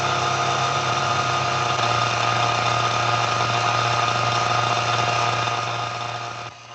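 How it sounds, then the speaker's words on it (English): A vacuum pump on a vacuum chamber holding tap water runs loud and close, a steady droning motor whine with a constant low hum that eases off near the end. "We turn on the vacuum and watch what happens."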